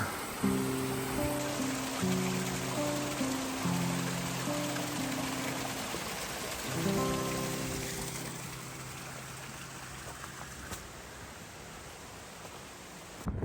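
A creek flows at a crossing on an April Appalachian Trail section hike, a steady close wash of running water that fades slightly over time, with a faint low droning tone beneath it.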